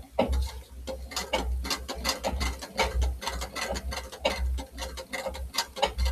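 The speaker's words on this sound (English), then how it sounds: "I'm just stitching around and around and around." A sewing machine stitching around and around in a steady fast mechanical clatter of needle strokes over a low motor hum, close and continuous, with no talk.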